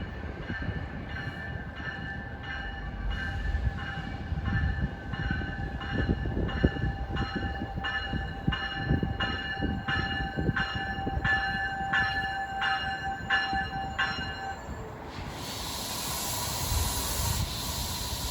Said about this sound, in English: Arriving at 4:15 is train 3855 from New York to Trenton.